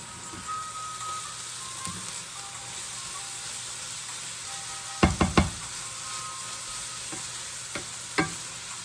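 Fried rice sits crisping in a hot pan, giving a steady low sizzle and hiss throughout, broken by a few sharp clanks and scrapes of a utensil against the pan near the middle and end.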